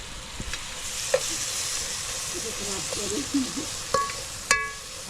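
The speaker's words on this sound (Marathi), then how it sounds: "आपण थोडंसं फ्राय केलं इकडे कांदा लसूण आणि टोमॅटो" Onion, garlic and tomato sizzle and fry in a pan while cooking outdoors, a steady crackling hiss with occasional stirring scrapes and clinks, and quiet talk underneath.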